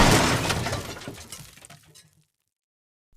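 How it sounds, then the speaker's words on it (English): Glass shatters during a car crash: a loud, bright burst of breaking glass whose scattering fragments trail off into silence after about two seconds. "The sound of metal bending, glass shattering, then silence."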